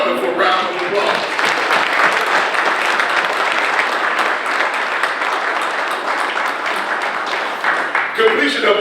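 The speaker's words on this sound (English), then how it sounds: "Give them a wonderful round of applause." An audience at a county government State of the County morning session breaks into sustained applause: a dense, even wash of clapping from many hands that lasts several seconds.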